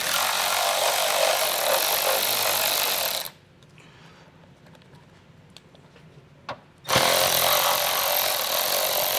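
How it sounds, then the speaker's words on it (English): A power tool spinning a 10mm socket removes plastic nuts on a 2021 Chrysler Pacifica, whirring loud and steady for several seconds, pausing amid quiet clicks, then running again at full volume. "Put your socket on and we'll get these removed."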